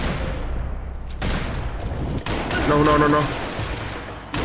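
Gunfire in the video game Max Payne 3, loud bursts of shots and booms amid continuous game action, with someone talking briefly.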